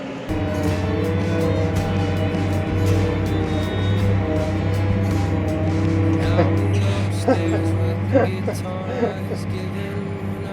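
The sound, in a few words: John Deere tractor with silage trailer failing to climb hill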